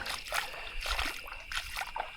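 Water trickles over rocks in a shallow creek in a bush river setting, with soft, faint, irregular splashes coming in short bursts and no talking.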